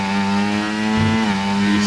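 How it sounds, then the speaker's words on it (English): An F1 car in the F1 24 racing game at Qatar brakes hard and drops down to fourth gear, a loud steady engine whine broken by a brief dip and blip of the downshift. "On the brakes hard, all the way down to the 4th gear in that first corner."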